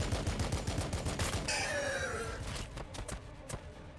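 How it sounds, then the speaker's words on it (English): Rapid bursts of automatic gunfire from a Warhammer 40K Battlesector battle at a gate, loud and dense at first, then thinning into scattered shots over a lingering rumble. "Opening fire."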